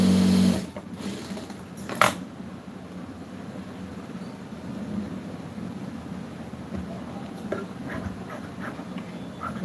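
A sewing machine runs steadily while stitching a chudidar neck, giving a low continuous whirring hum close by, with a sharp clatter near the start and light clicks later, no talk.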